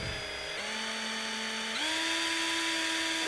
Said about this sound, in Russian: Если экран выдержит шуруповерт, это какое-то колдовство.